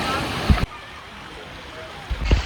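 Rushing, splashing water at a water park slide, a loud continuous spray with sharp thumps and splashes at the start and end, heard up close.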